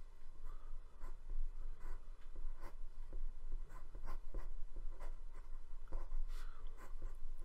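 Pencil scratching across paper while sketching storyboard frames, a steady run of close, scratchy strokes with brief pauses between marks, heard alone without any voice.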